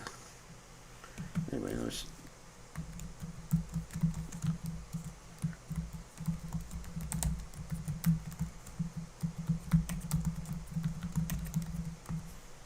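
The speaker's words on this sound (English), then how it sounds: "I was just typing in some text window to someone" Typing on a computer keyboard indoors, with a quick run of soft key clicks that grows steadier after a brief low hum, close and faint.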